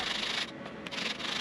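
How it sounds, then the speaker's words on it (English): Steady abrasive rubbing of a sanding block leveling glued inlays on a wooden guitar fretboard, a continuous scratchy hiss with a few brief pauses between strokes, close up. "I'll use a sanding block to mostly level the inlays."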